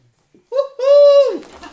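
An owl calling nearby with a single hollow hooting note that swells and then fades, preceded by a short softer note, standing alone against silence.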